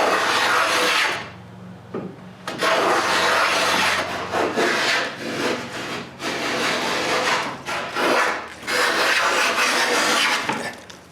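Hand tool strokes cut a chamfer on the end of a wooden board for a closed bookcase, rough rasping scrapes coming in repeated bursts with short pauses between, close and fairly loud.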